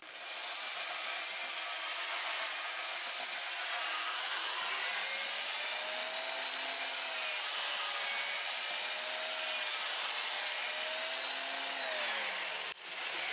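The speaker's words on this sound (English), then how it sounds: "So let's go ahead and sand it about 400 RPMs." Sander working olive wood spinning on a lathe at about 400 RPM, a steady close abrasive hiss with a faint rising and falling hum, continuous for the whole stretch.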